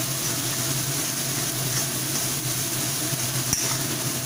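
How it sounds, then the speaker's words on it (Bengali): Spice paste for soybean kofta fries in oil in a pan as it is stirred, giving a steady, close sizzle with soft scraping and no talk. "আমি আরও দু মিনিট নাড়াচাড়া করে নিচ্ছি মশলাটা"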